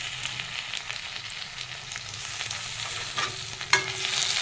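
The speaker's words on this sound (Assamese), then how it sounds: "এনেকৈ ভাজি ল'ম, ইলুটি সিলুটি কৰি।" Tomato pieces fry in hot oil in a pan and are turned over. A steady soft sizzle runs with scraping stir strokes, and a sharper clatter comes near the end. No one speaks.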